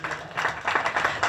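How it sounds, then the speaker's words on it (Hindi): A theatre audience at a stage play claps steadily, a dense burst of applause with slightly rising and falling intensity. "इनके लिए डबल तालियां होनी चाहिए।"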